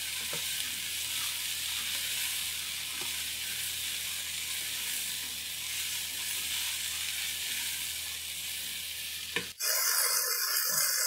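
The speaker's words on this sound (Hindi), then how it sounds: "पांच मिनट हम भिंडी को फ्राई कर लेंगे।" Okra (bhindi) frying in a pan gives a steady, dense sizzle that runs close and unbroken for most of the stretch, then cuts off abruptly into quieter, sparser sounds near the end.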